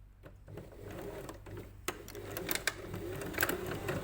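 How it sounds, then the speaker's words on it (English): A sewing machine stitches along the edge of a fold for a narrow double rolled hem, a steady quiet mechanical whir with small ticking clicks, heard alone at close range. "So right on the edge of that fold, I'm going to stitch."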